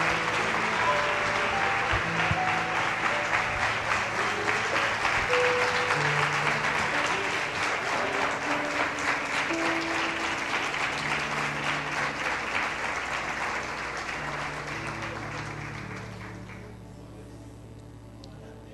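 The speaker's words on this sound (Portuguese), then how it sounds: "A igreja pode aplaudir ao Senhor Jesus?" A church congregation applauds steadily for a long stretch, dense and full, with a sustained tone or music underneath, and the clapping thins and fades toward the end.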